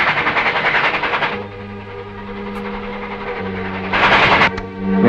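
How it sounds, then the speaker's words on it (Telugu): A train passing on a railway track, a loud close rumble with rhythmic clatter and a sustained low hum, swelling again toward the end. "ఒక్కసారి రైల్వే సౌండ్ విని"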